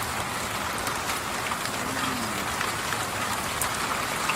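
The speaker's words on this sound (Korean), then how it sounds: "제가 그날 밤에 새벽에 들었던 빗소리." Heavy rain pours steadily in the small hours of the night, a dense, even hiss of countless drops that holds unbroken and close, with no voices over it.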